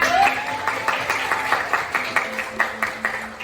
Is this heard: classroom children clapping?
yes